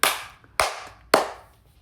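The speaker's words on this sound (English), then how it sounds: "Clapping," Three sharp hand claps, evenly spaced about half a second apart, sound close and clear with no talking, giving a steady rhythmic cue for walking.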